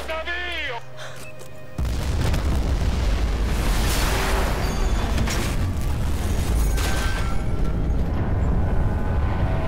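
Battlefield 4 game audio of a large explosion, a sudden loud blast that gives way to a long roaring, crackling rumble of debris and distant bangs lasting several seconds.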